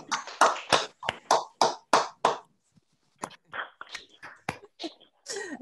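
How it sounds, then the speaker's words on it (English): Scattered hand claps from a few Zoom participants who have just unmuted, sharp separate slaps in a brisk run, then more irregular clapping with some rustle and faint voices. "I would like to invite everybody to unmute themselves and like actually applaud"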